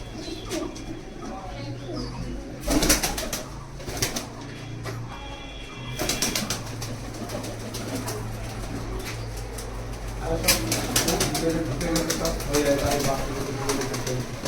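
Teddy pigeons coo in a loft, soft repeated calls rising and falling over steady background noise, with voices talking faintly throughout.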